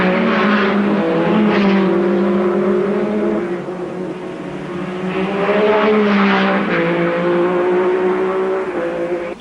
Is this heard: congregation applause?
no